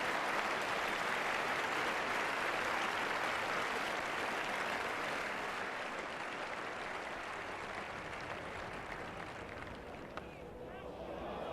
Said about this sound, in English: the warm applause from a Headingley crowd